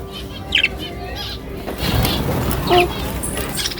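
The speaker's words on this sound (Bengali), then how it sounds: "দেখো দেখো পাখি দেখো" A few brief bird chirps and a flutter of wings over faint background noise, sparse and short.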